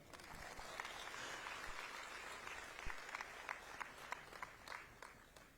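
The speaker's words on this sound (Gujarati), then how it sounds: "તો સાહેબ માટે તાળી પાડો." Hands clap in a sustained round for a dignitary at a public development-project inauguration event in Navsari, a broad, fairly faint crowd applause with a few sharper individual claps standing out near the end.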